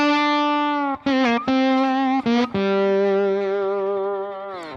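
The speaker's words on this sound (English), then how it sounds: "have a lick where at least one or two of the notes in there have no vibrato on them whatsoever" Slide guitar plays a short lick of sustained, sliding notes with no vibrato, the pitch gliding into each note and falling off slightly; a few brief breaks separate the phrases, and the tone is clean and close.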